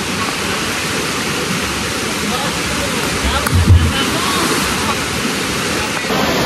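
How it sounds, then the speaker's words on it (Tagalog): Water pours loudly and continuously into a deep pool inside an unexplored cave in Tumauini, Isabela, a dense, steady roaring wash close by, with a faint voice briefly beneath it. "meron kasing babaan ng tubig dito, nag-stack yung tubig dito"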